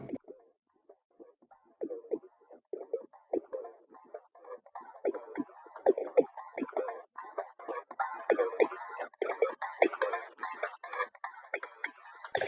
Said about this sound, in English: we have this little Perc loop that I have in here that sounds like this